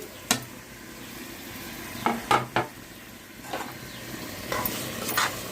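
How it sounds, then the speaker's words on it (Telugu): Soaked rice stirred and fried with tomato pieces in a pan, a soft steady sizzle under several sharp scraping strokes of a spoon against the pan, close and moderately quiet, with no talking. "ఇది కూడా వేపిస్తున్నామండి రైస్ని కూడా"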